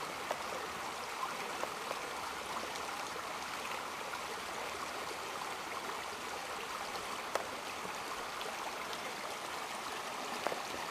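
Water churns and gurgles at a spot on the upper Elk River where an underground spring boils up through the riverbed, a steady close bubbling rush with scattered splashes and no voices.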